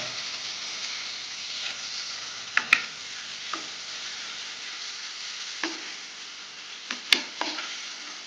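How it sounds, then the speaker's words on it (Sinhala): Cassava tempered in a pan with chopped onion, chili, garlic and salt gives a steady soft sizzle, with occasional light clicks and taps of a utensil against the pan. "මේක හොඳට ටෙම්පරාදු කරගන්න ඕනේ."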